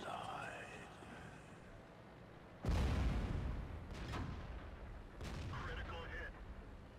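Artillery fire in World of Tanks during a T29 tank battle: a heavy, booming blast suddenly cuts in, followed by a couple of further sharp shots and rumbling, with quieter game ambience before.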